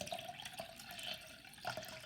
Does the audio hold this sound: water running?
yes